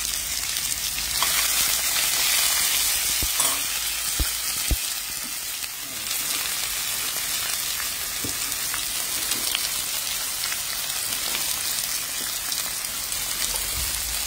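Onions fry in a pan with a steady bright hiss of sizzling oil, plus a few faint clicks and taps, close and even throughout with no talk.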